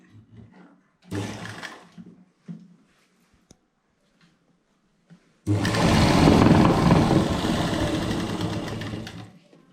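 Close and loud, a sewing machine hems a folded fabric edge on boxer shorts in one steady, continuous run, after a few brief, quieter rustles of cloth handling.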